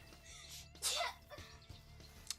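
A single sudden sneeze, sharp and breathy, close by and fairly quiet, with some faint murmuring and background sounds around it.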